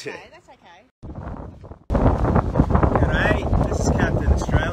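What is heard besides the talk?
strong wind blowing on the microphone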